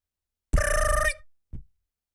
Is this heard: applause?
no